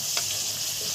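Ingredients for Egyptian koshari sizzle steadily while frying in a pan as they are stirred, with a continuous hiss and a brief scrape of the spoon near the start.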